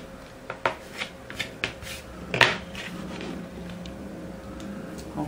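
Scissors snipping a loose green thread from a stitched sample on a page, a few quiet close clicks and snips followed by faint rustling, with no talk.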